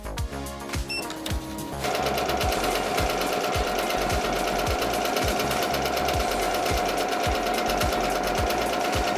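An embroidery machine stitches a tack-down run over fabric for a patch, starting with a few slow stitches and then settling into a fast, loud, evenly rhythmic needle clatter that continues steadily with no talking.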